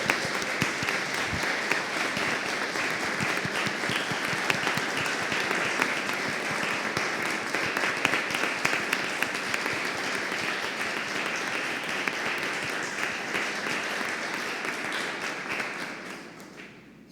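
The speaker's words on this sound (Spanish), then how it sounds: "Le damos un aplauso de felicitación." A church congregation at a lector installation service applauds in congratulation, a dense, steady roar of many hands that holds evenly for about sixteen seconds and then quickly fades out.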